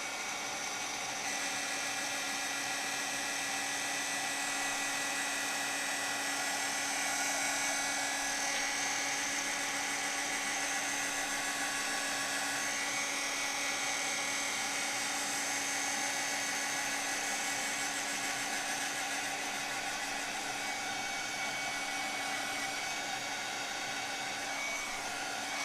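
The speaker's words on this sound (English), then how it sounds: "I'll get my heat tool warmed up and we'll melt this powder" A heat tool melting embossing powder gives a steady, loud electric whine and blowing roar that holds unchanged throughout, with no voices.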